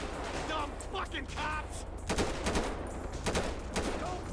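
Gunfire in Grand Theft Auto V comes as bursts of sharp shots, moderately loud and mixed with someone talking over the game.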